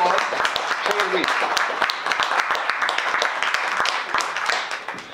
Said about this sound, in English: So with that, let's give Shane a round of applause